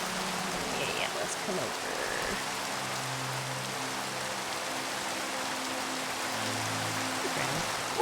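Steady rain falls and hisses through the whole stretch in a Minecraft world, with a low hum beneath. A voice briefly speaks over it.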